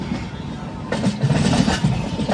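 Trivandrum–Jammu Rajdhani Express pulling out of Panvel, heard from inside a first AC coach as a continuous low rumble with rhythmic wheel clatter picking up midway.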